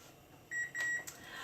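A kitchen timer, probably a microwave, gives two short electronic beeps close by, with a faint clatter of handling between them and a brief third beep at the end.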